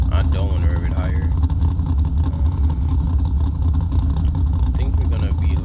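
A Chevrolet Monte Carlo engine in BeamNG.Drive holding a loud, steady low rumble with a brief rev near the start, while someone talks over it throughout.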